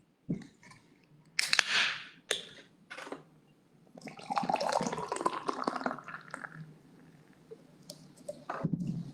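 Golden Buddha passion fruit ale poured into a small cup, a rising liquid gush with clinks and handling noises around it, close and fairly loud, no talking.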